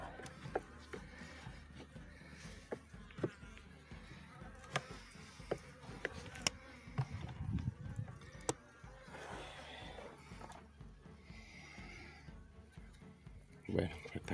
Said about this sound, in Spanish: Están las avispas a tope.